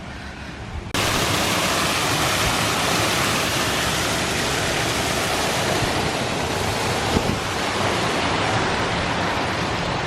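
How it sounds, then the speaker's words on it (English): Water pours through a canal lock with a loud, steady roar that starts abruptly after about a second and keeps a dense, even rush to the end. "A lot of water in that lock."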